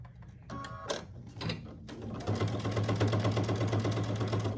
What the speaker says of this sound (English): Now I'm ready to stitch down this side.